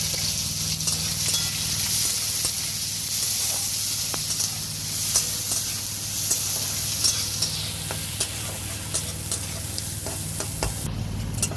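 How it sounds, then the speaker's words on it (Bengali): Chopped onion with black cumin seeds fries in hot oil, a dense, steady sizzle with occasional small clicks of stirring throughout, close up and without talk. "পেঁয়াজ ভাজা হয়ে গেছে"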